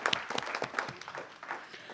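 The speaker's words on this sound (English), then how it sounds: "please give him a round of applause" Short burst of applause at a city council meeting, a crowd clapping in a room with a few sharp individual claps standing out, dense at first and thinning toward the end.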